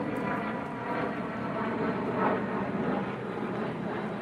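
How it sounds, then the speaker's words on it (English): UPS cargo airplane passing overhead, a loud steady broadband engine roar filling the whole stretch, slightly swelling midway, with no speech. "Sorry about the planes. You know UPS flies over, so I'm used to it."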